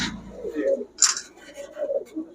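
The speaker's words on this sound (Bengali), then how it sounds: "গিয়াসুলি নর হচ্ছে গিয়াসুলি কবুতর" Giyasuli pigeons in a pigeon market make low, soft cooing murmurs at close range, with a brief rustle partway through.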